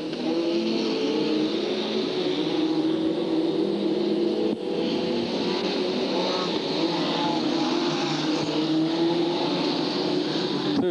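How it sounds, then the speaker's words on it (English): F2 stock cars racing at Hartlepool in 1993, a dense continuous engine drone from a field of cars circulating, loud and steady with a constant roar throughout. "Keith Maiden coming through the field there"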